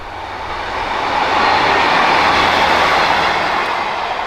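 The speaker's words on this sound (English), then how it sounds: "Got another train coming." A train runs along the old Hull & Barnsley Railway line between Eastrington and Ouse Bridge, a broad, steady rumble and rush that swells to a loud peak midway and holds before easing slightly, with no voices.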